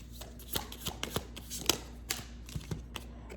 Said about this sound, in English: I'm going to use Energy Don't Lie Oracle deck cards by Kanona